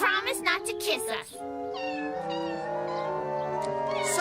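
Cartoon kittens meow in high, wavering cries over sustained background music, starting just after a voice talks at the start.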